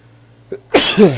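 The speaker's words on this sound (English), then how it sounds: "Sorry about sneezing" A single loud sneeze, with a quick sharp intake of breath just before the explosive burst, close to the listener.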